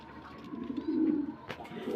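Lotan pigeons cooing nearby, a soft low rolling coo with a brief flutter-like rustle toward the end.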